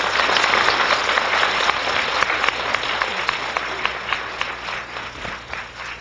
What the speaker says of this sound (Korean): 여러분 큰 박수로 맞아주시죠